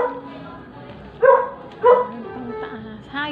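A dog at a house gate in Quezon City gives two loud, close barks about a second apart, with a softer yip near the end, over background chatter.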